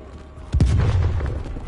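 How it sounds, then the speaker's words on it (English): A single heavy boom bursts out in a Black Ops Cold War match, a sharp blast that decays into a long low rumble over faint background game noise. "Explosions everywhere."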